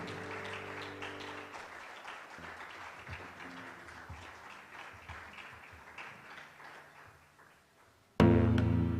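A church congregation claps in prolonged applause, a dense patter of hands that gradually thins and fades, mixed with lingering keyboard music, before an abrupt louder sound cuts in at the end.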